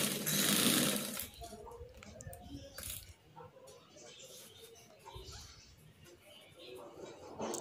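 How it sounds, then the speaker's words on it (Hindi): A sewing machine stitches a fabric chapati cover, opening with a loud close burst of rapid whirring and then fainter mechanical clicks and rustles, with someone talking. "ट्राइंगल की शक्ल में सिलाई लगानी है मैंने।"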